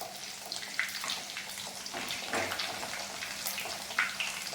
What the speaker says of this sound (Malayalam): നല്ലെണ്ണ ആയതുകൊണ്ടായിരിക്കും തിളച്ചൊക്കെ ഇങ്ങനെ വെള്ളം പോകുന്നു.